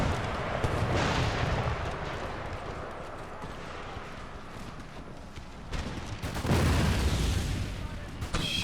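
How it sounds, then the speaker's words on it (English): Cannon artillery fires in the battle video game Empire: Total War as a dense, continuous rumble of booms and volleys, with swells of heavier blasts and voices heard in places. "Come on, cannons."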